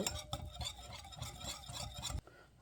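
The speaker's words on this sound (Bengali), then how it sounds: "হাফ চামচ রসুনের পেস্ট এখন আমি ভালো করে মিক্স করে নেব" A spoon stirs half a spoonful of garlic paste into a mixture in a pan, giving close, steady rhythmic scraping and clinking strokes that stop abruptly near the end, with no talking.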